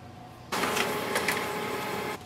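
An HP LaserJet Pro MFP 3103fdw laser printer prints a page, a steady mechanical whir and rolling feed noise that starts abruptly after a brief quiet and runs evenly for under two seconds before stopping.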